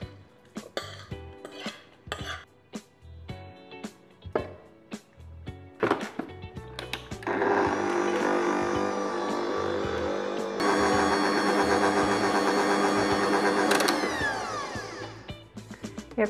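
An electric hand mixer whirs steadily for several seconds through banana bread muffin batter of mashed bananas, melted butter, salt and baking soda, with clinks of bowl and utensils before it starts.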